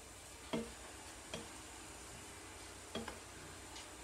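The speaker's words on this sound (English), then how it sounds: "I'm going to sprinkle in all of my herbs." Rosemary, thyme, oregano and marjoram sprinkled into a deglazed iron skillet, a soft steady sizzle with a few light clicks and taps of the pan, quiet and close, no talking.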